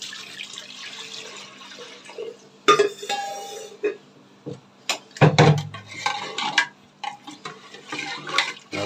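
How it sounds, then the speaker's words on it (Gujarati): Water poured into a pressure cooker while cooking dal comes as intermittent splashing bursts, mixed with clinks of metal utensils and pauses of near quiet in a home kitchen. "કુકરની અંદર થોડુંક પાણી નાખી"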